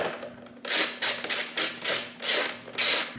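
An 8mm socket wrench rasps in a steady series of about seven short ratcheting strokes, close and fairly quiet, loosening bolts on a Honda CRF80F dirt bike.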